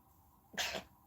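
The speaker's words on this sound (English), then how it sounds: "I'm just sneezing up a storm." A single short sneeze bursts out sharply in an otherwise quiet room.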